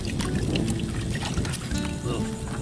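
Salt water sloshing and pouring in a bucket as gear is rinsed on a beach during a redfish shore lunch, a steady close splashing and trickling wash that fills the whole stretch.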